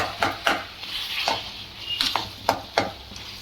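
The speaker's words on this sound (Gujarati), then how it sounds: "હવે આને એકદમ પાછું મિક્સ કરી નાખવાનું છે" Sambar masala mixed with water is stirred in a pan, with a spoon scraping and clinking against the metal in about eight quick, uneven strokes over a faint low sizzle.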